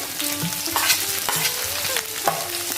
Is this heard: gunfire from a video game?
no